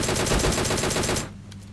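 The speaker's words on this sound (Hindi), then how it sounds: "प्री फायर देखें भाई का।" Automatic rifle fire in the PUBG Mobile battle royale shooter, a loud rapid burst of shots in quick rhythm lasting over a second before cutting off to quiet game ambience.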